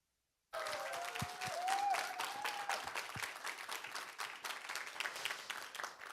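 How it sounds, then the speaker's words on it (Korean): A church congregation at an evening revival service bursts into sustained applause and cheering to welcome a pastor to the pulpit, dense clapping starting abruptly and continuing throughout, with a whistle and shouts rising near the start. "우리 힘찬 환호성으로 우리 김기석 목사님 앞으로 모시겠습니다."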